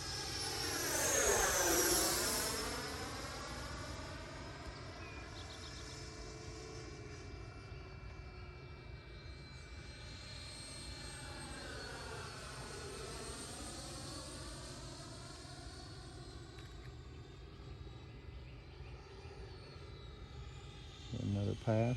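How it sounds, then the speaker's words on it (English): Electric ducted-fan motor on an RC sport jet (E-flite Viper or Freewing Avanti) whining as it spools up during a low pass, a loud sweeping rise and fall in pitch as it flies by, then a steady drone with faint background voices. "I'm gonna add power as I pitch out so y'all can hear that motor spool up."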